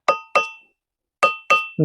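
Ringing stones in a temple at Sennelkudi are tapped by hand, four sharp metallic-sounding strikes in two pairs, each leaving a clear bell-like ring that fades quickly, close and loud with no talking.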